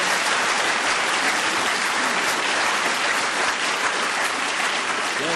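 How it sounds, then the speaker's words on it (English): Steady studio audience applause closing a 1978 British television panel word game, dense and continuous at an even, fairly loud level throughout with no voices over it. "A little applause,"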